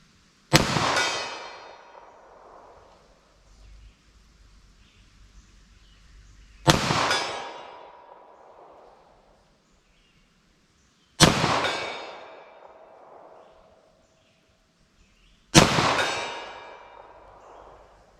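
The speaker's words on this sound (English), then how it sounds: "So 9mm, I'm gonna shoot slow." Four loud, sharp 9mm handgun shots fired slowly outdoors at a 75-yard target, Federal Hydra-Shok rounds, each report ringing out and decaying over a couple of seconds, spaced roughly four to five seconds apart.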